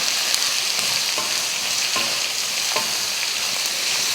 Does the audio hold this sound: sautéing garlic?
yes